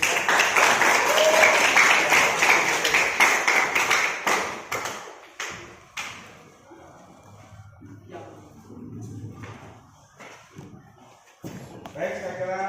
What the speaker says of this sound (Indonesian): kita beri aplaus pada kelompok kita